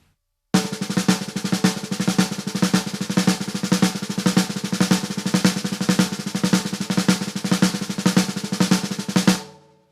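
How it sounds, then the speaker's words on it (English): A snare drum plays a six stroke roll pattern, fast and steady with accented strokes and quick doubles, loud and close, running continuously for about nine seconds before stopping. "if you were to play number 2, the pattern, just on the snare drum, it would sound like this"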